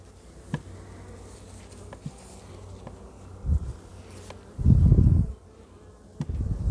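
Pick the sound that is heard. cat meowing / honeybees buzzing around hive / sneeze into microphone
honeybees buzzing around hive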